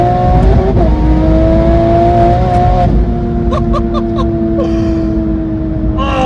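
A 700 BHP BMW G87 M2 or big-turbo A90 Supra accelerating hard, its loud engine note rising through the gears with brief shift breaks, heard close up from inside.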